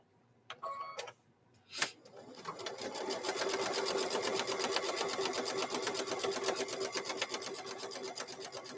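Sewing machine stitching fabric onto a microwave bowl koozie, a few short starts and then a long steady whirring run, close and even, with no talking.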